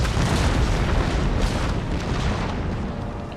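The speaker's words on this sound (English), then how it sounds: "He's getting very lucky on his cannon shot at the moment." A deep, rumbling roar of artillery cannon fire in Total War: Empire, with booms blurred into a continuous heavy barrage that stays loud throughout.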